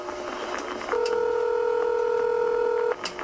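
A telephone on the border hotline, used as a bat phone, sounds a steady two-second dial tone after faint background murmur, then cuts off abruptly, with soft room noise around it.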